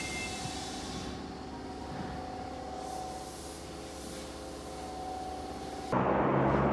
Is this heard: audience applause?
no